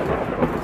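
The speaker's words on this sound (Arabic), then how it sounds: "والبرق بيبرق الرعد بيرعد" Thunder rumbles through a storm that breaks over a fishing trip by a canal, a continuous, broad, loud roll with no voices over it.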